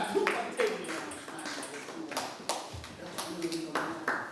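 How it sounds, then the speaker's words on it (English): A small group claps at an evening youth gathering with sparse, uneven claps from a few people, and voices are audible underneath. "So clap."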